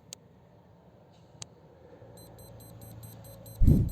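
FNIRSI HS-03 cordless battery soldering iron switching on: two short, sharp electronic beeps, then a quieter series of repeating tones, ending in a louder burst of noise.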